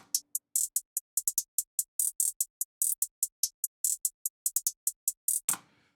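Crisp hi-hats tick in a busy, syncopated pattern, two interlocking layers of short bright hits with no other instruments, ending in a brief noisy burst.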